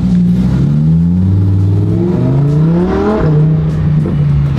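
A Lamborghini Performante engine revs hard as it accelerates, its pitch climbing through gear changes, loud and close from inside the car.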